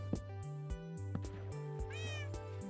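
A Minecraft cat meows in the game, repeated short mews in a steady series, clear and close against a quiet background, with no speech.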